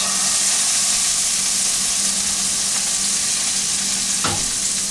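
Beef sears in a hot pan for beef Wellington, a loud steady sizzle and hiss close up, with a few light scrapes and a brief clatter near the end.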